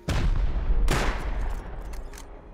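A rocket launcher fires twice during a raid in the game Rust: two loud, close blasts about a second apart, each followed by a rumbling, fading roar.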